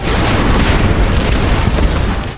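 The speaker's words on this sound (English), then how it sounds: "The shockwave of the explosion destroys the fence, and Madison gives Victor a meaningful look" An explosion in a post-apocalyptic drama scene blasts apart a fence, a loud, sustained booming roar with rumbling debris that fills the whole moment without letting up.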